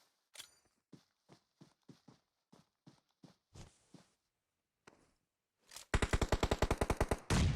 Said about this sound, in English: Nexia goes down to the M4 spray from Royal